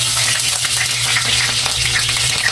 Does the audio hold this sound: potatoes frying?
yes